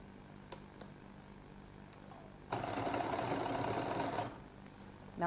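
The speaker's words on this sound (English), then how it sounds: "We'll give it a double stitch." Sewing machine running a double stitch on a lady's jacket: a steady whirring burst of about two seconds after a few faint clicks, moderately close, with no talk.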